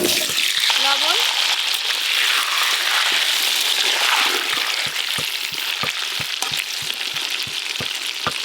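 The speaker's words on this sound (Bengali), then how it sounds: "ওই তেলে আর একটু তেল দিয়ে আলুগুলো একদম ছাঁকা তেলে ভেজে নেব" Cut, washed potatoes with salt go into plenty of hot oil and sizzle loudly and steadily, a dense close frying hiss with scattered crackles and spatters throughout, no speech.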